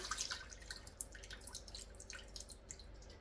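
Liquid poured off from jars of home-preserved plums into a pot, a quiet trickling and dripping stream with small splashes that runs steadily throughout, with no talking.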